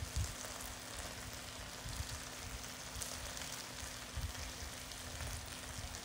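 Food sizzling as it fries in a pan during a Spanish cooking class, a continuous soft crackling patter like light rain, faint and even throughout with a low steady hum underneath.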